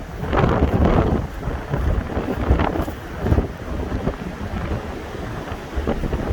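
Strong winter storm wind blasts across a Vancouver beach, roaring loudly in heavy gusts and buffeting the microphone, with deep rumbling surges and no voices.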